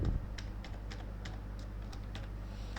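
Typing a database command on a computer keyboard, a quick steady run of close, crisp key clicks over a low hum.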